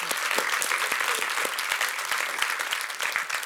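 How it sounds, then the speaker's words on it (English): A lecture audience applauds steadily, a dense crowd of clapping hands that holds at an even level throughout. "Let's all give a round of applause."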